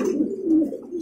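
A Silver Lahori pigeon gives a soft, close, continuous low coo lasting about a second, with no voices over it.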